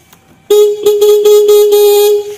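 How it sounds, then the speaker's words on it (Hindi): A Honda Activa scooter's electric horn honks in a string of loud, close, steady beeps: one long blast, then several quick repeated toots run almost together over about two seconds. "हॉर्न बजाओ"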